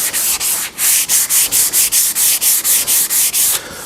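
Hand sanding with Festool abrasive on a water-based wood finish seal coat, giving a loud, close, raspy scrubbing in quick regular back-and-forth strokes, about four per second, with no voices.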